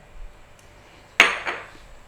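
Dry glutinous rice poured into a pan over a flame to toast, making one sharp rattling clatter as the grains hit the metal, followed by a smaller second patter, then quiet.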